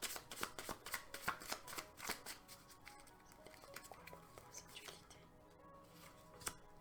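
Tarot cards are riffled and shuffled close by in quick crisp flicks that thin out into softer slides and taps as cards are drawn, with no talk over them.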